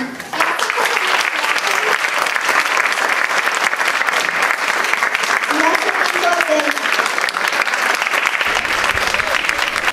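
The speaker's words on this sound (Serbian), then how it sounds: "da pozdravite sve učesnike jednim velikim aplauzom" An audience at a Serbian Saint Sava celebration gives a long, loud, sustained round of applause, dense clapping filling the whole stretch without a break.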